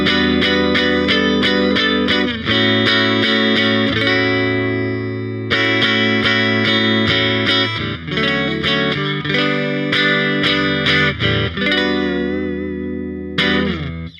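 Electric guitar on a Fender Jaguar-style neck pickup with the tone control lowered, giving a warm, dark, muted tone, strummed chords and short riffs ringing out over several bars, played alone and fairly loud.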